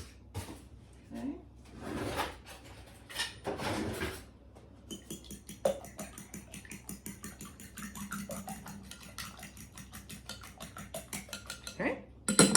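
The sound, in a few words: beating two eggs in a bowl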